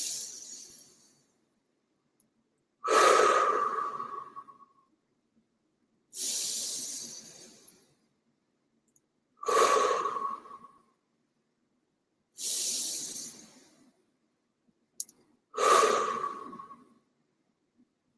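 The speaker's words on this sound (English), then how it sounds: "Breathing together for 3 breaths." Slow, deep breaths in a guided breathing exercise, a long airy inhale then an exhale, repeated about three times in an even rhythm, close and quiet with silence between breaths.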